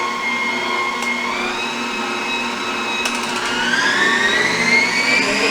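An electric mixer beats pound cake batter with a steady motor whine that shifts in pitch as the beaters work. It runs close and continuous for the whole stretch, without voices.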